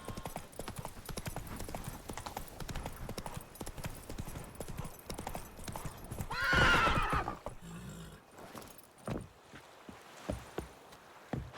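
A horse in the video game The Witcher 3 gallops with rapid, close hoofbeats, gives a loud whinny midway, then slows to scattered clopping steps.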